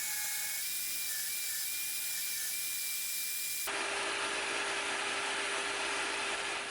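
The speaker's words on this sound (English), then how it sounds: "Now I'm using a 40 grit belt here just to go through and smooth out a lot of the rough shapes" A belt grinder with a 40 grit belt smooths forged go-mai knife steel made from 1080 and 15n20, giving a loud, continuous high grinding whine that changes tone sharply midway as contact shifts.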